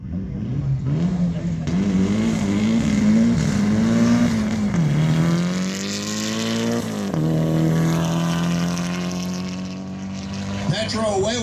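A diesel race car launches off the line at the Mt. Washington hill climb, its engine roaring loud and steady as it pulls away up through the gears, with commentators talking over it throughout.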